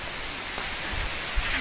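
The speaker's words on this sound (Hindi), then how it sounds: "एंड बारिश बहुत ज्यादा है" Steady heavy rain hissing continuously, a dense wash of broadband noise with a couple of soft low thumps, no voices.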